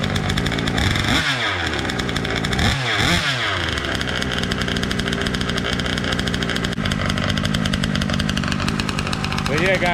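A Drag Baja engine running rich while being broken in, revving loud and close with a raspy, buzzing roar, dipping and climbing through several throttle blips before settling into a sustained high idle.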